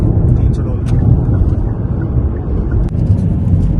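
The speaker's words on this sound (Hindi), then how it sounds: "हम थोड़ा सा नाइट ड्राइव पे जा रहे हैं।" A car driving at night, a steady low engine and road rumble filling the cabin throughout, with faint clicks and rattles on top.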